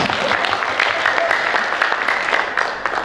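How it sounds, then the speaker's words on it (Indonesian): An audience at a media event at Jatim Park 3 in Batu applauds Pak Suryo, a brief burst of steady clapping with crowd voices mixed in. "Tepuk tangan dulu dong buat Pak Suryo"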